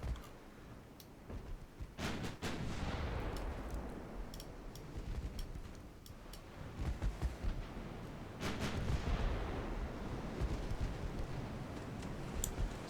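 Warship guns fire in a naval battle video game, Mark 1 25-caliber pieces on a Spanish dreadnought, with deep booms and rumbling blasts rolling under a constant low roar of battle noise.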